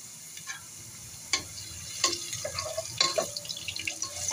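Chopped onion and garlic frying in a pan for a bean seed curry, a soft sizzle under scattered clinks and scrapes as a spoon stirs, close and fairly quiet with no talking.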